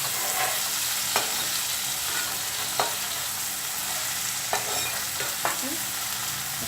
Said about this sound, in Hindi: अच्छे से फ्राई होने दीजिए।